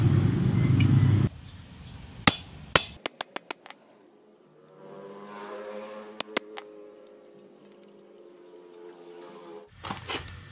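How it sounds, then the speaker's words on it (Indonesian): A hammer strikes metal to adjust the end of a part on a rice thresher with a shaking sieve. The sharp, close taps come in a quick cluster of about six, then two more after a quiet stretch with faint background hum. "Sesuaikan ujungnya dengan palu."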